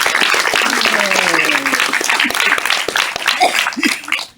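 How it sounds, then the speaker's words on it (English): Audience applause at a culinary job training graduation ceremony, steady dense clapping throughout, with voices and some cheering mixed in. "Please, round of applause."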